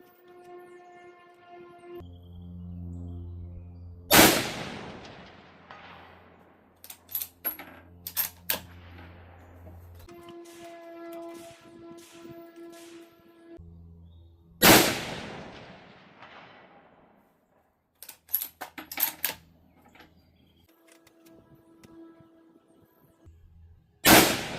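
Two sharp, loud reports from a Savage Axis rifle in 6.5 Creedmoor firing Sellier & Bellot ammunition outdoors, each a sudden crack with a decaying tail, separated by quieter stretches with steady tones.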